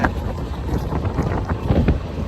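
Hot wind blowing in the Rajasthan desert near Bikaner, buffeting the microphone with loud, rumbling, uneven gusts that continue without pause.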